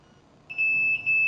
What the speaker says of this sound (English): alarm will come on.